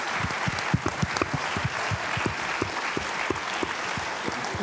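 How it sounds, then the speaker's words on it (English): An audience at a healthcare talk breaks into applause, a steady dense patter of many hands clapping close by for several seconds with no voices over it. "So give him a round of applause."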